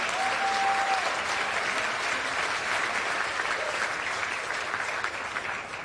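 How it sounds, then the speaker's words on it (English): Sustained applause from an audience at a National Urban League Juneteenth event in New York, dense steady clapping filling the whole stretch at close range and easing slightly at the end, with no talking over it. "Let's give him a round of applause."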